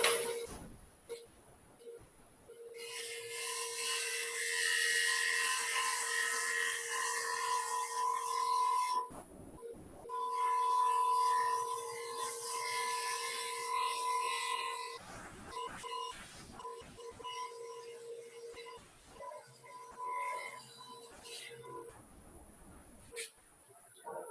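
A lathe turns a cut at 2,500 RPM with a sharp tool, giving a steady tonal whine and broadband cutting rasp that runs for long stretches, broken by brief pauses and a few knocks near the end.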